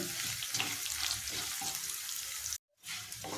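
Lentils and spices for a gongura chutney tempering fry in hot oil with a steady, moderately quiet sizzle and occasional stirring scrapes, cut briefly by a moment of silence near the end.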